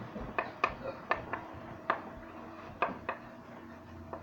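Spoon scraping and knocking against a pot while stirring thickening orange sauce, a series of irregular light clinks and scrapes close by over low background noise.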